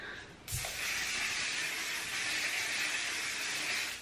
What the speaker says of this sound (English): I'm gonna quickly hairspray this with some aquash.